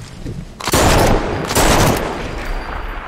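Two loud bursts of gunfire in a multiplayer video game, each a dense volley lasting about half a second, heard close with background rumble and no talk over them.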